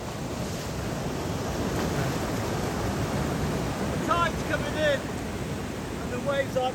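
Waves break on Saltburn beach as a continuous broad surf wash mixed with wind buffeting the microphone, with brief faint bird-like chirps near the end.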